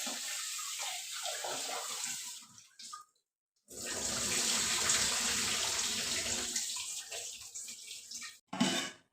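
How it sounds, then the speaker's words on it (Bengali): Rice being washed in water, a close, continuous splashing and running-water wash that stops briefly midway, resumes, and ends with a short burst of splashing; no speech. "এই চালটাকে এবার ধুয়ে নিই"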